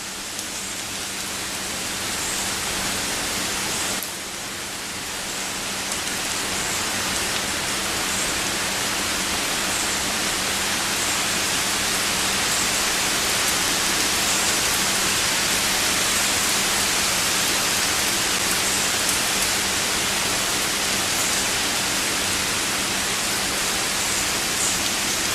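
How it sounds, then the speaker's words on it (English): Steady rain from the first bands of Hurricane Irene in Virginia pours down in a dense, even hiss that holds for the whole stretch, with a brief dip early on and no voices. "Here's some of the first rain bands working their way in."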